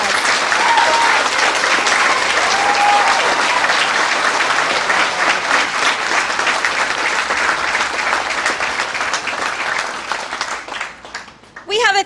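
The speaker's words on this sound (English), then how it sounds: "Please give these students a huge round of applause." Sustained applause from an audience at a high school senior awards ceremony honoring students, loud and steady clapping from many hands that thins out near the end.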